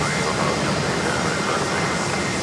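A JetBlue airliner taxiing at JFK airport makes a dense, steady jet-engine rumble and whine, close and fairly loud throughout with no breaks, and indistinct voices mixed in.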